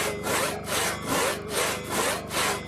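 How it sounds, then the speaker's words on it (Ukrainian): Hand saws rasp steadily through wood as soldiers build fortifications at a freshly dug frontline position in early winter, with about five rhythmic back-and-forth strokes, close and loud, and no talking. "Одні з пилками, інші з ломами та лопатами в руках будують укріплення."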